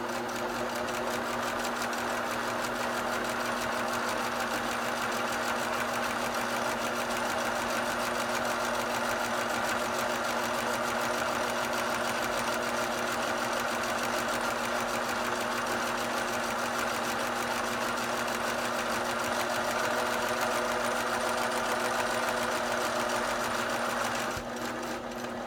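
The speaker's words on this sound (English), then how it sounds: "just a 1/4 inch seam allowance, which is actually the edge of my presser foot" A sewing machine stitches a quarter-inch seam along a fabric quiet book page, a loud, close, continuous rapid whir that runs steadily for about twenty-five seconds without pause.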